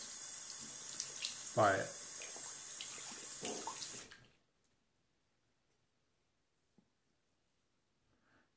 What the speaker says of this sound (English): try not to talk while the water's running there.